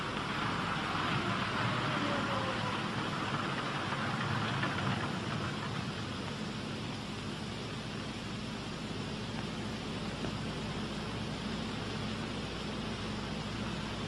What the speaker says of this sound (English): advance throttles to full open as the engines die.